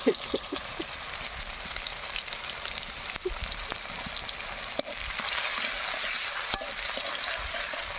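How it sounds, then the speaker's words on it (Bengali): Sliced onions fry in hot oil with whole bay leaf and cumin seeds for a fish curry, a dense steady sizzle with occasional pops and light stirring clicks, close and loud, no voices. "পেঁয়াজগুলোকে একটু বাদামি করে ভেজে নেবে"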